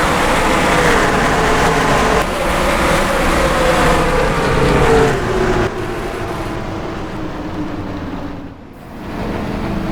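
Stock cars in the NR2003 racing video game roll under the pace car at Bristol, a loud, steady, dense engine drone that thins and dips near the end.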